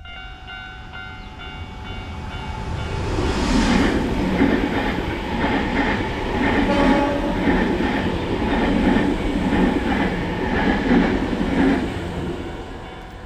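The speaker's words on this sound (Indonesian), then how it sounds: "Keretanya datang, guys." A train rolls past close by, wheels clacking rhythmically over rail joints with a steady rumble and squeal, no voices.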